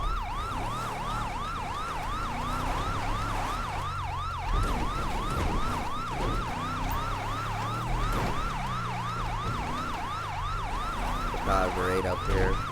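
Police siren in the LSPDFR police mod during a Blaine County patrol, a fast, regular wailing cycle sounding loud and continuous from start to finish, with brief radio-like chatter near the end.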